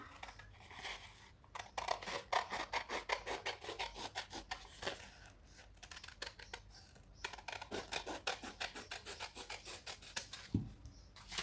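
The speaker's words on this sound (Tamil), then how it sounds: "எவ்வளோக்கு மடித்து தைப்போங்கிறது தெரியறதுக்காண்டி இதை கட் பண்ணுறேன்." Scissors cutting folded fabric for a kurti sleeve make rapid, rhythmic crisp snips in close bursts, with a short pause mid-way before the snipping resumes; quiet overall.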